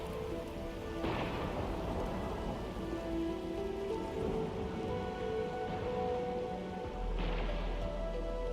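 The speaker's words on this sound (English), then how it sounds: "It's raining harder. I can't hear anything except for the rain." Heavy rain falling in a video game, a dense constant hiss of rain with low rumbling thunder and a couple of brief brighter swells, loud and continuous with no talk.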